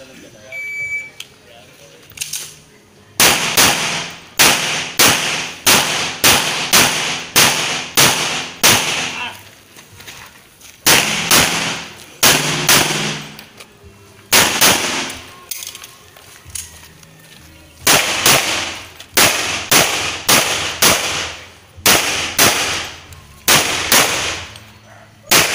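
At a year-end shooting competition, handgun shots ring out in rapid strings of sharp, loud cracks, with short pauses between volleys and some crowd and range noise behind them.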